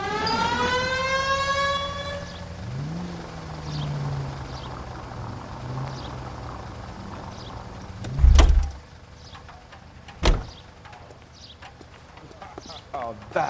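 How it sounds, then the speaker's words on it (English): Police car siren in the 1940s Los Angeles crime game L.A. Noire, a rising wail that winds down and fades to a low drone, followed by engine and street noise with a couple of loud thumps. "Turn on the siren and pull her over."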